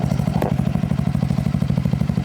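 A Honda Forza 350 scooter's exhaust, fitted with a sound-reduction device, idles with a steady, fast, even putter, fairly muffled and low, running alone without voices.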